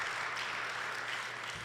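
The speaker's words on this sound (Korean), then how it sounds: "박수해 주십시오." Church congregation clapping, a soft, steady wash of many hands heard at a distance, faint and continuous for under two seconds.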